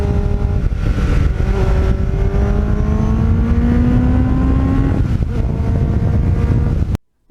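A 1989 Kawasaki GPX750R motorcycle with a Muzzy muffler runs loud and close, its engine pitch sweeping up and down under heavy wind rumble before cutting off abruptly.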